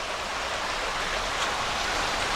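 Canoe Creek flowing beside a walking path in a state park, a steady broadband wash of water at constant level throughout, with no voices.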